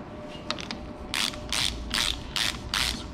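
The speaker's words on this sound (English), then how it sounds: "Screw it in." A ratchet turns bolts into a limited slip differential, giving a close, crisp clicking: a few quick ticks, then five bursts of rapid ratcheting in an even back-and-forth rhythm, with no talking.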